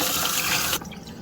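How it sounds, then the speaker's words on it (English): Tap water runs steadily over a freshly cleaned, halved Dungeness crab in a kitchen sink, a loud continuous splash that cuts off abruptly near the end and leaves a quieter trickle. "Give it a good rinse and then it's good to eat"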